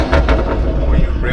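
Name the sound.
BMW 540i engine revving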